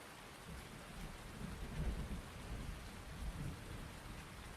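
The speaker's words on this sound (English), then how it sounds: "I think I just heard thunder." Steady rain hisses throughout while low rumbles of thunder swell and fade in the background in Farming Simulator 19, with no voices.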